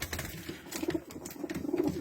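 Pigeons in a coop coo softly nearby, low repeated throaty calls with a few faint wing or movement sounds in between.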